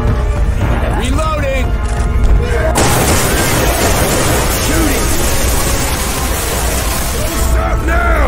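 Dense, loud gunfire in the zombie shooter Left 4 Dead 2, sustained bursts and booms amid constant chaotic game noise, with voices shouting over it.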